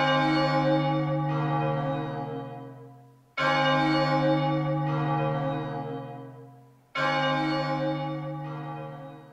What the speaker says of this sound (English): all I have to do is ring this bell. Ring out, Bell of Oblivion!